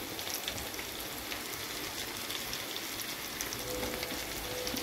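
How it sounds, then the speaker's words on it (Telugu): Chicken fry with chili powder sizzles steadily in a pan, a dense continuous frying hiss with crackling, no voices. "స్పెషల్ చికెన్ ఫ్రై రెడీ అవుతుందండి"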